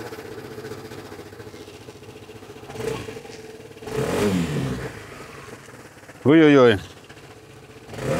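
A Lambretta or Royal Alloy retro scooter engine idles with a low, steady hum. It gives two brief blips, then one sharp, loud rev near the end, while people talk and exclaim nearby.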